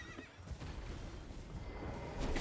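Horse in the game Elden Ring neighing and whinnying loudly over a steady bed of game ambience, with a few hoof clops mixed in across the short stretch.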